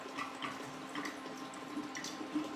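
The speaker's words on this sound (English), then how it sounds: "So I have a bottle of Pinot that I'm going to pour in here, pour in my pitcher." Pinot wine poured from a bottle into a pitcher for apple cider sangria, a faint steady trickle with soft gurgling splashes, close and continuous.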